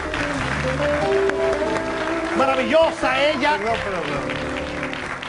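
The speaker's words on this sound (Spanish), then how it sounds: "Aquí un aplauso, por favor." Audience applause at an event, steady clapping from a crowd heard under a talking voice that carries on throughout.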